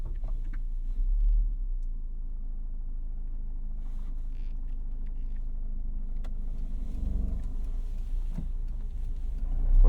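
A steady low engine rumble from a manual-transmission car as a beginner lets the clutch out, heard from inside the cabin at a constant even level with no talking.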